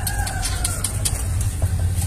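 A caged zebra dove (perkutut) gives soft, repeated cooing notes close by, steady and low over faint background noise.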